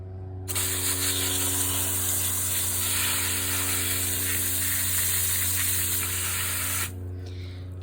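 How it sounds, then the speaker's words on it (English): A strong water spray rinses freshly harvested beets outdoors, a loud continuous hiss that starts abruptly, holds steady for about six seconds and then cuts off, with a low steady hum underneath. "let me rinse off these beets right here"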